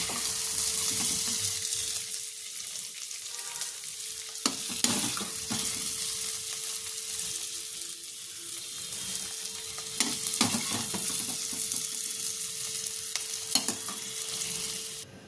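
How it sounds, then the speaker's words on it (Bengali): Capsicum and onion fry in a kadai with a steady, close sizzle that runs throughout, broken by a few sharp stirring scrapes and clinks of a spoon against the pan. "এখানে ক্যাপসিকাম আর পেঁয়াজ ভাজা হয়ে গেছে।"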